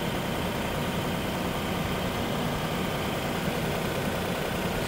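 A 2006 Lexus RX400h hybrid idles steadily at close range during an engine and inverter temperature check, giving a constant, even hum with broad hiss and no change in pace; nobody speaks.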